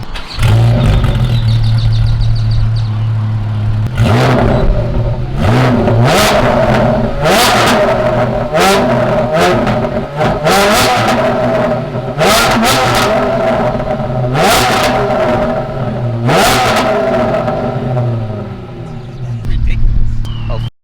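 A Porsche GT4 fitted with a Dundon Megaphone Cracked Pretzel exhaust revs repeatedly outdoors, loud sharp blips rising and falling over a steady idle, with a person talking briefly underneath.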